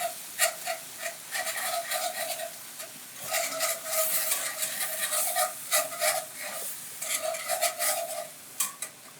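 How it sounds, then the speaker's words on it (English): Whisk stirring a creamy oat-milk sauce in a pan, rapid scraping and swishing strokes with a light sizzle underneath, close and continuous, pausing briefly between bursts. "Just keep whisking"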